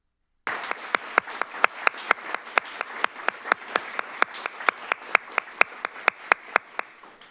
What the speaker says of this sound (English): We start off with just a general round of applause for all of you